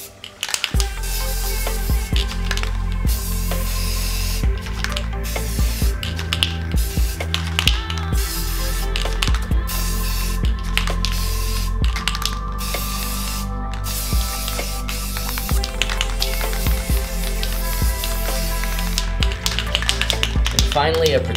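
Spray paint hisses onto steel tread-plate back armor in long continuous bursts, broken by short gaps and small clicks from the can, close and steady across the whole stretch.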